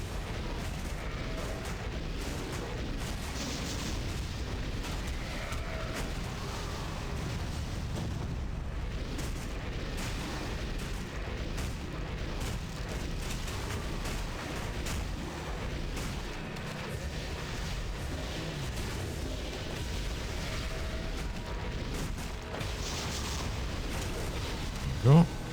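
Continuous rumbling explosions and booming blasts from combat in the action RPG Torchlight 2, a dense, loud barrage running throughout with no pause.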